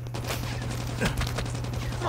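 Gunfire from a sniper rifle in the mobile shooter Call of Duty Mobile, with several sharp, fairly close shots spread over a couple of seconds above a steady game hum.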